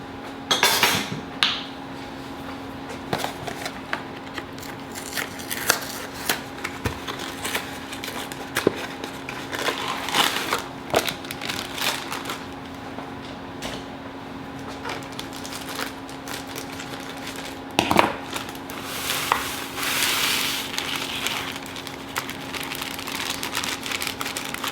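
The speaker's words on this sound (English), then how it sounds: "So now we gotta dump this mix in and stir it all up." A no-bake mix is stirred in a bowl, giving irregular close clinks, taps and scrapes of a utensil against the bowl that keep going with short pauses. There is no talking.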